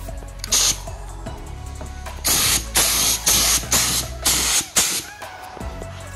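HVLP spray gun painting a motorcycle in a home garage, several loud hissing bursts of spray over a steady background hum, with short gaps between passes.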